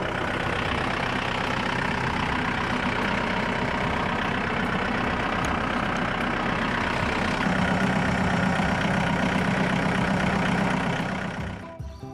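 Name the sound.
small farm tractor engine idling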